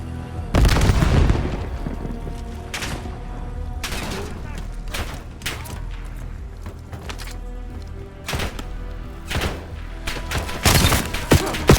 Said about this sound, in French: Grenade ennemie!